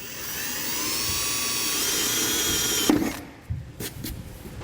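A power drill bores holes through the steel bed of a 2022 Chevrolet Silverado for a gooseneck hitch rail kit, a steady rising whine held for about three seconds, then cut off, followed by clunks and handling noise.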